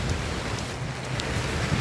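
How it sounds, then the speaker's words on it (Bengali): Torrential rain driven by gusty stormy wind during a sea depression, a steady dense hiss of downpour with low rumbling gusts, continuous and fairly close for the whole stretch. "সকাল থেকে মুষলধারে বৃষ্টি, সাগরে লঘুচাপ, ঝড়ো হাওয়া বইছে, সাথে প্রচণ্ড পরিমাণ বৃষ্টি।"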